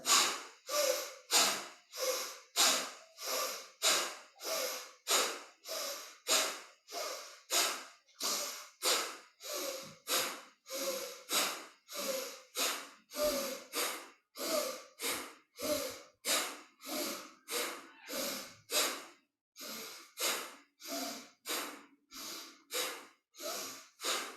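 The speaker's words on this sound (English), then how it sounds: "And it's breath of fire again. So the inhale, strong exhale through the nose." Rhythmic breath of fire yoga breathing during Kundalini practice: a long run of forceful, evenly paced nasal exhales, close and fairly loud, each a sharp puff with a brief pause, continuing for many cycles with no talk.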